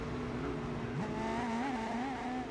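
A Ruf car's engine revs in the Gran Turismo 4 racing game, a loud, steady buzzing drone whose pitch rises and falls through the gears, with no talk over it.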